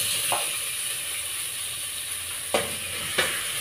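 Onion frying in a pan for chicken tinola gives a steady, moderate sizzle. A few sharp utensil clicks against the pan cut in near the start and toward the end.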